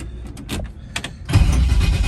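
A 1965 Chevrolet Nova being started: a few short clicks and whirring cranking bursts, then the engine catches and settles into a loud, close rumbling run.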